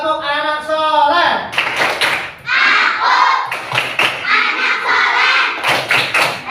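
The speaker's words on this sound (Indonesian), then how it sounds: "sekarang tepuk anak soleh" Children in an Indonesian classroom chanting the tepuk anak soleh rhythm, voices singing together in bursts punctuated by sharp, loud group claps in a patterned beat.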